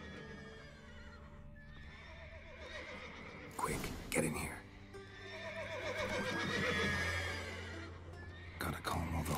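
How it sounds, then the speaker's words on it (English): Horses neigh and whinny repeatedly in a stable scene from The Witcher 3 video game, with loud bursts around the middle and end, hoof clip-clops underneath, and a person speaking briefly over it. "Gotta calm all the horses before they wake the guards"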